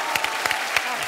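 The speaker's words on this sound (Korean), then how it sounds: "나이스 리액션 박수." Brief burst of studio audience applause on a Korean sketch comedy show, with a few sharper claps standing out from the crowd for about a second.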